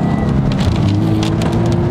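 A 2017 Toyota 86 with a 2-liter flat-four engine drones on a wet road in the rain as the rear slides, tires hissing through water in bursts over the steady motor hum.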